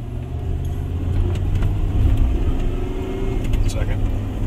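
A truck with a 4L80-E automatic transmission pulls away from a stop and shifts gears, its engine a low steady rumble that swells slightly mid-clip, with people talking inside the cab.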